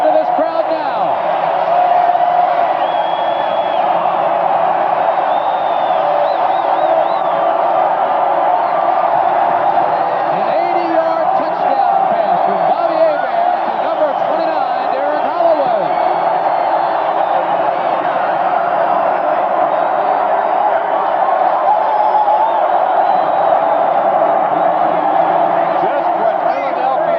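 Football stadium crowd at a 1984 Philadelphia Stars vs Michigan Panthers game roaring and cheering after a Michigan touchdown, a dense sustained wall of cheers and whoops that runs unbroken for nearly half a minute under a commentator's voice.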